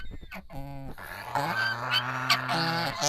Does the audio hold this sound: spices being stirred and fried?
no